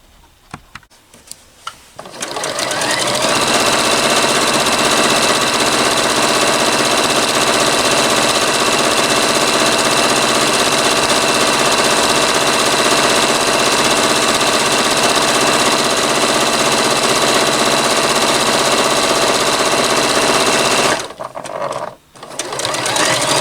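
A sewing machine runs steadily while stitching down a pleat on a curtain panel, a loud, fast, even mechanical whirr that lasts about nineteen seconds and then stops, with no voices present.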